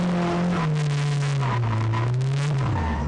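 Car engine during drift practice, revving hard and close, its pitch swelling and dipping under throttle changes, with tyre and wind noise mixed in and no talk.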